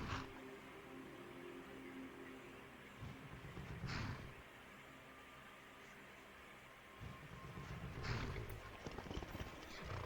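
In the video game Skyrim, horse hooves clip-clop softly at a moderate distance in a few scattered bursts over faint, steady outdoor ambience, with no other prominent sounds.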